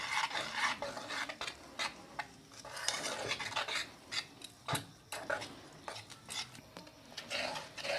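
Utensil scraping and clinking against a bowl as biscuit cake batter is stirred with added milk and Eno, repeated brisk scrapes throughout, close and fairly quiet with no talking.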